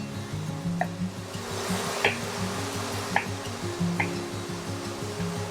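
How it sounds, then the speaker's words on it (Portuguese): Onion sautéing in a pan, a steady low sizzle running throughout with a few soft scrapes and clicks from stirring, moderately quiet and with no voices. "Enquanto a nossa cebola refoga um pouquinho ali"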